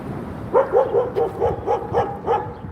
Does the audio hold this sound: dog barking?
yes